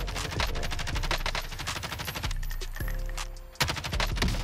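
An Origin 12 shotgun fires in a Warzone game, a fast run of loud, evenly spaced blasts followed by a brief pause and another sharp shot.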